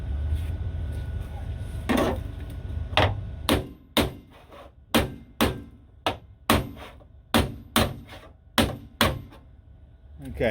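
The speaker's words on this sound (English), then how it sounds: "working that edge with a metal plate and a decent sized hammer, pushing it down" A decent-sized hammer pounds a steel rocker panel edge down over a metal plate on an old one-ton truck, about a dozen sharp, ringing metallic blows at a steady rhythm, loud and close, with faint background noise between strikes.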